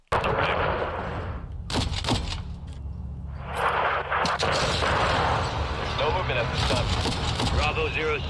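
Small arms gunfire in the Call of Duty Modern Warfare 2 video game, loud sustained bursts of rifle and machine-gun fire with sharp shots and brief lulls, over battlefield noise, with voices heard in the mix.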